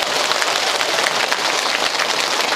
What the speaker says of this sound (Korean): 맞다 박수